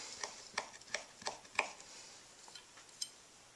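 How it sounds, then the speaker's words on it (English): A knife chops thin strips of citrus peel on a cutting board, a quiet series of about eight crisp, irregular taps spaced roughly half a second apart, close by with no voices. "slice them thinly into strips with your knife, and then from there you just chop them up"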